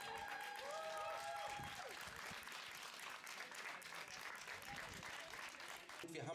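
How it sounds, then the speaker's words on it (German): Applause from a crowd at a community life-saving event, a dense, continuous clapping wash with a brief whistle-like tone early on and some voices mixed in. "Also nochmal herzlichen Applaus."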